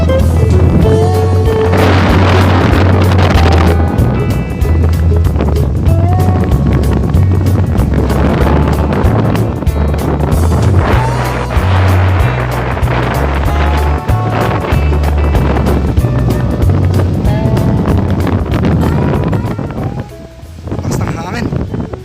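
Strong wind buffets the microphone at a hilltop cliff edge overlooking Pandan's rolling hills in Catanduanes, roaring gusts throughout while someone speaks over it.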